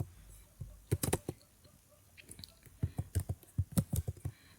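Code being typed on a computer keyboard, with irregular clusters of crisp, close keystrokes in quick bursts separated by short pauses.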